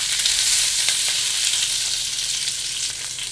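Green beans blister in olive oil in a hot pan, a loud steady crackling sizzle that stays dense and close throughout with a few sharper pops.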